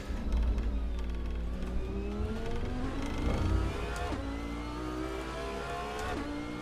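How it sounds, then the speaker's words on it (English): A 630-horsepower exotic car engine in the Assetto Corsa racing game revs hard as it accelerates out of a slow corner. The loud, rising engine tone climbs in pitch and drops at each gear change. "That 630 horsepower engine gets us up to speed nicely coming out of that slow corner."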